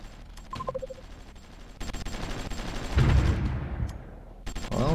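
Artillery and massed gunfire from the strategy game Supreme Ruler Ultimate: scattered shots give way to a dense barrage with a heavy boom in the middle, fading before a fresh burst at the end.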